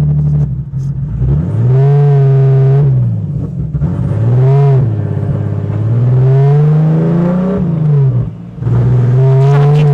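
A BMW E36 turbo car reverses and pulls away on a mountain drive, its engine revving loudly and close in repeated rising and falling surges, with brief dips between the pulls and no talking.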